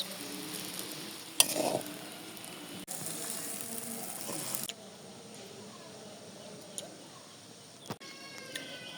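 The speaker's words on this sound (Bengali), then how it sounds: "মশলাটা দিয়ে একদম ভাজা ভাজা করে এরকম রান্না করলে কিন্তু ভালোই লাগে" Noodles frying with spices in a home kitchen pan on Eid day in Bangladesh, a steady close sizzle with brief stirring scrapes and clatters, fading to a quieter hiss.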